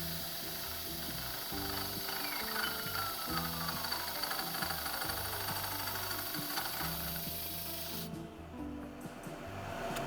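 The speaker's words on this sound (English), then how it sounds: "It's an almost brand new hole saw" A nearly new hole saw cuts into an Aermacchi motorcycle front hub in a workshop, a steady grinding whir with uneven pitch shifts and rattling for about eight seconds before it stops, close and moderately quiet with no talk.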